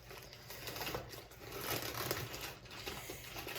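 Plastic packaging around a 1,000 ml normal saline IV bag is pulled open with soft, continuous crinkling and rustling, quiet and close.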